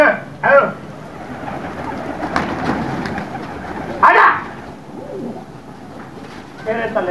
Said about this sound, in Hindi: शबीर भाई कबूतर उड़ा रहे देखे उतार रहे